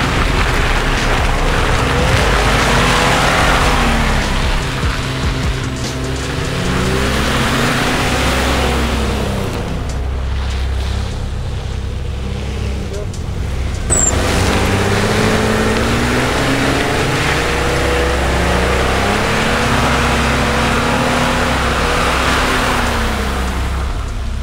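An off-road SUV on a trail, its engine droning steadily and swelling into several rising and falling revs as it climbs, loud and fairly close, with a brief drop midway.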